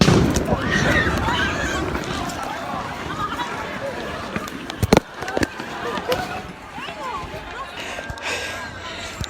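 Sharp bangs from fireworks thrown at a downtown street protest with tear gas in the air, a couple of loud cracks midway amid crowd hubbub, footsteps and nearby speech.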